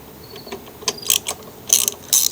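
A socket ratchet removing the 1/4-inch ignition coil bolts on a Craftsman mower engine clicks in short bursts up close, with a few separate metallic ratchet runs and brief pauses.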